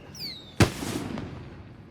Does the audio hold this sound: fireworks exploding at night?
yes